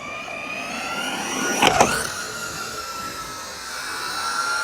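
An FTX RC truggy's electric motor revving at full throttle, a rising, high-pitched whine that climbs steadily in pitch, with a brief clattering burst partway through.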